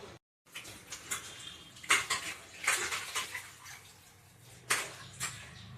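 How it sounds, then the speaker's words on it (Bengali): Pieces of bhola fish are rinsed in water in a metal pot, with bursts of sloshing and splashing and light clanks against the pot, close by and with no talk. "মাছটা ধুয়ে নিলাম"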